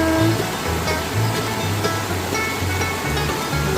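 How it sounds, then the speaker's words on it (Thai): Steady broadband rushing of a clear natural stream flowing continuously, close and fairly loud, with no voices. "พามาเที่ยวลำธารค่ะ ลำธารที่ใกล้บ้านนี่แหละนะคะ"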